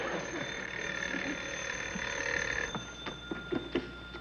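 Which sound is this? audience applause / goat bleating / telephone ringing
telephone ringing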